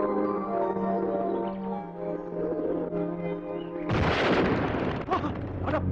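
A gun concealed inside a camera fires a single loud, booming shot that bursts out sharply after a stretch of tonal background music and rings on with a rough, echoing tail.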